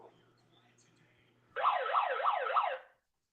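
A loud wailing siren alarm effect is played on a sports podcast, cycling up and down about four times over a bit more than a second before cutting off abruptly. Quiet background comes before it.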